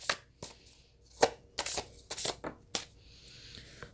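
Tarot cards being shuffled by hand, a quiet, close series of crisp riffling snaps and flicks at an irregular pace over a few seconds, with no talking.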